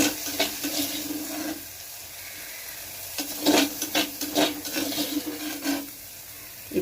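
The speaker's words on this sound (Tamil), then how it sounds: "அது கூடவே கருவேப்பிலை சேர்த்து நல்லா வதக்கலாம்" Sliced ingredients sauté with curry leaves in a pan for a kulambu, a gentle sizzle broken by bursts of scraping stirs, with a quieter stretch in the middle before the stirring picks up again.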